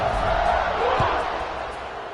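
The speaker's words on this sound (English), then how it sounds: "They're set to kick it off, and this crowd now ready to get behind them." Football stadium crowd before kickoff at a college game, a broad roar of massed voices that stays loud and then eases slightly, with a brief thud in the middle.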